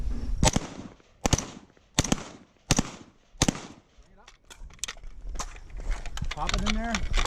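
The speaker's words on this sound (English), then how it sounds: "So when that thing runs dry, you're going to bring your rifle up." Rifle shots fired during a magazine-change shooting drill outdoors: five loud, sharp reports spaced about a second apart, then a pause with a brief voice and scattered softer clicks and handling sounds.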